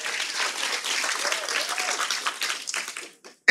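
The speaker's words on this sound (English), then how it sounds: "Give him a hand clap." A room full of people applauds, with dense clapping that gradually thins out and stops, ending in a brief sharp noise.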